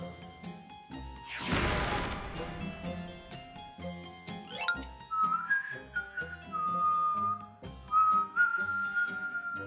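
A melodic whistled tune runs through the clip, with a brief loud crash early on and musical accompaniment underneath.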